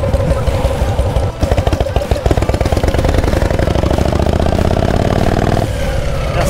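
Harley-Davidson motorcycle engines idle in a crowded parking lot at the JOINTS 2024 bike event, a loud, close, lumpy rumble with a brief rising rev partway through.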